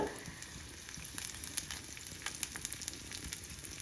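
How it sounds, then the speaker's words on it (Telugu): Onions, green chilies and curry leaves fry in hot oil for a mutton curry, a soft, steady sizzle with faint crackles and pops, quiet and close, no voices. "లైట్ బ్రౌన్ కలర్లోకి వచ్చేలాగా వేయించుకోవాలి."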